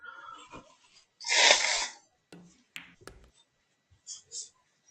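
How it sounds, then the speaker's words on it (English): A person blowing their nose, a short loud breathy honk in a quiet room, followed by faint sniffs and small handling sounds. "Just blow my nose."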